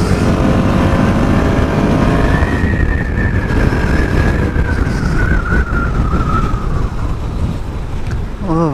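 A motorcycle riding on a road while low on petrol: a loud, steady engine roar with rushing wind runs throughout, and a drawn-out whining tone rises and falls across the middle.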